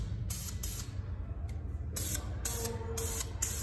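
A brand-new spray paint can hisses out light coats in short bursts, several separate sprays with brief pauses between them, close and fairly loud over a low background rumble.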